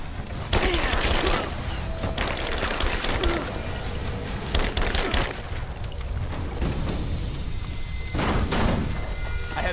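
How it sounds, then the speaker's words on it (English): Soldiers fire weapons in Rise of the Tomb Raider, sustained loud bursts of automatic gunfire rattling in rapid volleys with sharp cracks and booms, dense and close throughout. "Laying down covering fire!"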